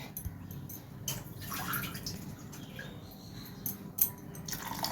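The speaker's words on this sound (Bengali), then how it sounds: "বাটিটা পোস্তর বাটিটা ধুয়ে একটু জল দিয়ে দিলাম একটু জল লাগবে" Water runs and splashes as a bowl used for poppy seed paste is rinsed, a steady close trickle with a few sharper splashes and no voice.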